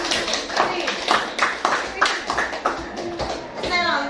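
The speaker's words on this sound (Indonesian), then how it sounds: "berikan tepuk tangan yang paling meriah" A classroom of children breaks into applause, a dense run of quick, rhythmic hand claps close by that carries on for several seconds with voices chattering underneath.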